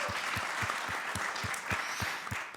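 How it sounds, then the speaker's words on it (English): A group audience applauds steadily at a panel discussion on the green transition, a dense wash of clapping with faint rhythmic low thumps underneath, with no talking over it. "let's give a round of applause"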